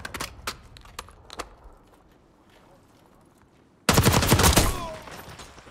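Video game gunfire in a multiplayer shooter: a few sharp scattered shots at first, then a loud dense burst of rapid fire near the end.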